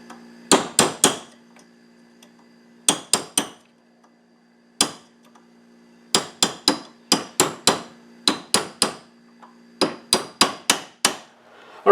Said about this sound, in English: with my punch and hammer and tap that forearm retainer lever back in its forward position